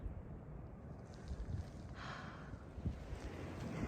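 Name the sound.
strong cold wind on trail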